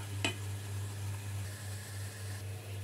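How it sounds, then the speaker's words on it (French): Garlic sizzles steadily in hot oil in a frying pan, a close, even crackling hiss over a low hum, with no voices. "Dans une poêle, faire cuire de l'huile avec de l'ail."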